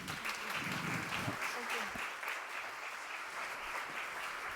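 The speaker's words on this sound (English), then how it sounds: "Round of applause." An audience at an electricity interconnection opening ceremony claps steadily, a moderate, even patter of applause with some faint voices in the background.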